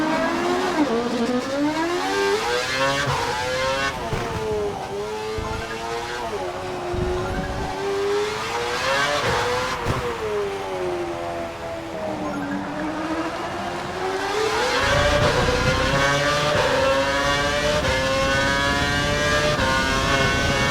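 An F1 race car in F1 2012 at Abu Dhabi's young drivers test, its high-pitched engine repeatedly revving up and dropping through gear changes, loud and close, with talk over the top.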